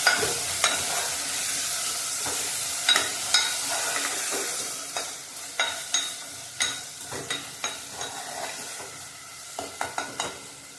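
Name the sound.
drumsticks and lentils frying in oil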